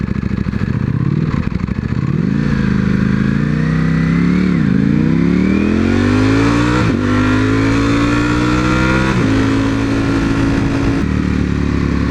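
A Mercedes-AMG car accelerating hard through its gears, loud and close, the engine note climbing in pitch and then dropping sharply at each shift, heard alone.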